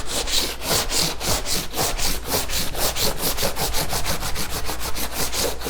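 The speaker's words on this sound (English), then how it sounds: "I can use, and in this case, 80 grit sandpaper." A painting surface being sanded by hand with 80 grit sandpaper in a studio, with steady back-and-forth rasping strokes in an even rhythm, close and loud with no talk.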